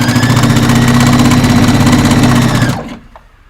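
A sewing machine stitching at high speed while a garment top is sewn, a loud steady whirring hum that runs without pause, then stops abruptly near the end, leaving near silence.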